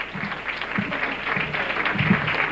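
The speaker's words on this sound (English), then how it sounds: "Can you give a round of applause to our creator, our leader" A crowd at a 1996 celebrity gala breaks into applause, a soft, fairly distant wash of clapping that holds steady and swells slightly toward the end.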